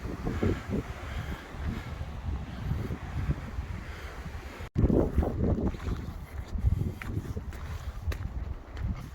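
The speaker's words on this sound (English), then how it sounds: "bear in mind it's windy as well" Heavy wind buffets the microphone on Carrot Hill in Scotland in rumbling gusts, loud and continuous, with a sharp dropout midway before the roar resumes.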